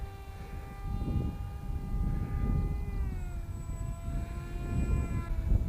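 A small twin-motor RC model jet at half throttle gives a thin, steady electric whine with shifting tonal pitch, heard over heavy gusting wind buffeting the microphone.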